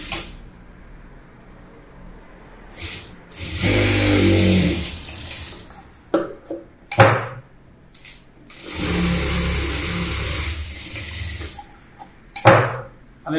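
A sewing machine stitches the side seam of a frock for a two-year-old child in two long motor bursts, each lasting a few seconds, with clicks and handling noises between them, close and fairly loud.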